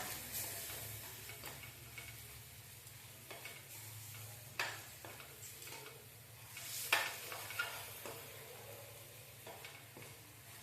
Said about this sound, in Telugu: పెద్ద మంట పెట్టానండి పెద్ద మంట మీదనే వేపుతున్నా బాగా